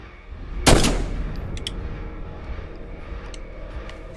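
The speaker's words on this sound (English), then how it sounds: "I'm gonna run out of ammo shooting people off of this tower." Gunfire from a tower in the State of Decay video game: one loud, sharp shot near the start, then a decaying echo and steady ambient rumble, with a few faint distant clicks later.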